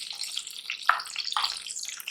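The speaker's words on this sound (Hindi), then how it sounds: "तो देखिए इस तरह से हम आलू को फ्राई कर लेंगे।" Potato pieces frying in hot oil in a pan, a bright continuous sizzle with crackling bursts and stirring noises, close and fairly loud with no talking.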